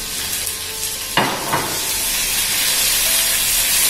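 Peppers and onions dropped into a hot pan for a healthy stew, with a brief stirring scrape at first, then a steady, fairly loud sizzle and hiss that fills the rest of the clip.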